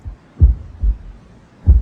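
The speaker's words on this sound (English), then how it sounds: "A heartbeat." Heartbeat sound effect from a 1976 action film soundtrack, deep low thumps in a slow irregular rhythm, close and heavy with a quiet hum between beats.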